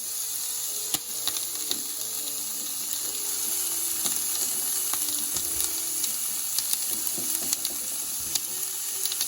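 Chicken wings laid skin side down sizzle steadily on a Ninja Foodi XL grill, a dense, continuous hiss with scattered small pops and crackles throughout.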